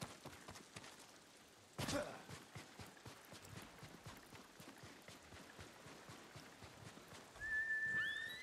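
Horse hooves clip-clopping in the Ghost of Tsushima video game, a steady run of soft hoofbeats at moderate distance with a louder thump near the start and a brighter rise near the end.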